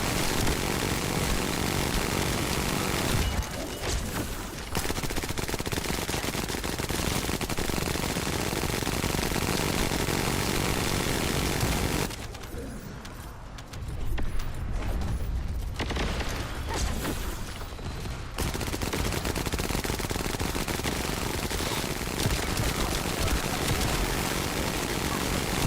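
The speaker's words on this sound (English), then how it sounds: "the mini Gatling gun here" Minigun fire in the shooter game The First Descendant, a dense sustained mechanical roar of rapid shots that runs continuously for long stretches, pausing briefly twice before spinning back up at full loudness.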